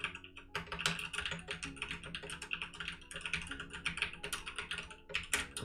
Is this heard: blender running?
no